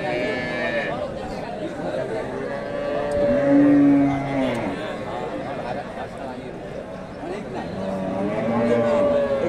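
A Friesian cow lowing at a busy cattle market, two drawn-out moos rising over steady crowd chatter and nearby talking.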